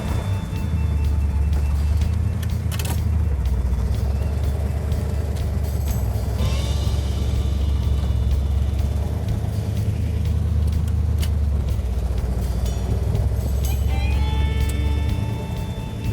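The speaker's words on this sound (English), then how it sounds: "Now we're gonna go ahead and get the car running and put it in gear" A 1970 Plymouth Cuda's 383 engine idles loudly and steadily with a low rumble, with occasional squeaks and clanks over it.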